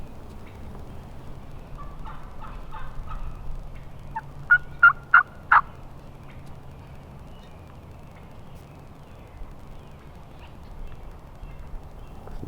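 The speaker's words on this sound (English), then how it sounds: "Gobbler." A wild turkey gobbler gobbles out in the field, a short burst of rapid gobbling notes at moderate distance over quiet outdoor ambience, with a few softer calls just before.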